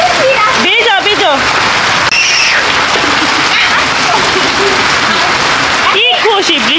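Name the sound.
rain falling outside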